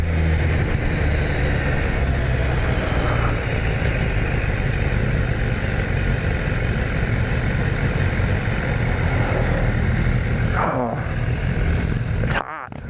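A 2018 BMW S1000R motorcycle engine drones steadily and loud while riding, with a few sharp exhaust pops near the end.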